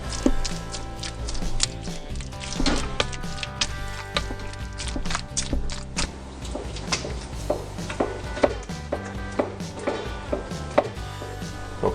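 Honeycomb is crushed in a pot to extract honey, giving repeated close knocks and thuds at an irregular, steady pace, with no one talking.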